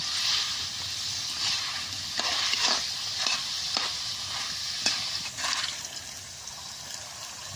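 Pieces frying in hot oil until crisp, a dense steady sizzle with occasional stirring scrapes, close and continuous.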